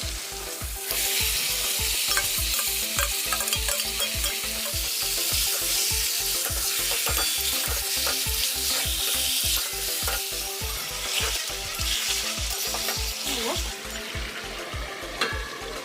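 Chicken pieces for chicken biryani sizzle loudly in oil-released masala while a spatula stirs them in steady rhythmic scrapes, continuous and close, with no talking.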